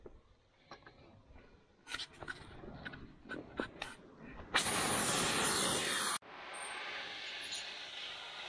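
A cutting torch hisses steadily as it cuts a gap in metal during a large repair job, preceded by scattered clicks and taps, with a loud sustained roaring hiss lasting a couple of seconds before a quieter, continuous hiss takes over.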